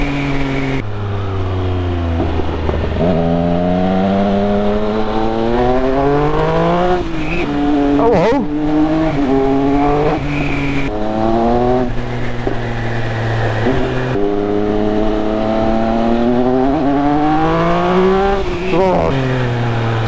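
Triumph Speed Triple 1200 RS motorcycle engine pulling hard through rising and falling revs, loud and close throughout, with a rider's voice cutting in briefly.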